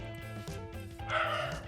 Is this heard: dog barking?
yes